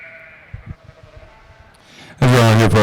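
At a sheep show ring, low shuffling and bumps are followed by a loud, close sheep bleat near the end, a single wavering call.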